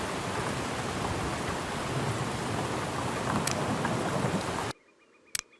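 A thunderstorm in the video game Road to Vostok: heavy, constant rain roars with a low thunder rumble underneath, then cuts off abruptly, leaving near-silence with a couple of faint clicks.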